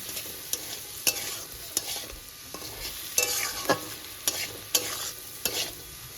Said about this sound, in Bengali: খুব ভালো করে কষে কষে জাস্ট ভেজে নেব